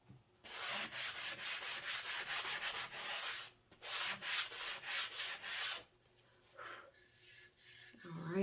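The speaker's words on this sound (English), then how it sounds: "I'm gonna go with the 200 because it is pretty gritty in some spots" Raw wood is hand-sanded with 200 grit sandpaper in quick, steady back-and-forth rasping strokes, close and clear, with a brief pause midway and a softer tail.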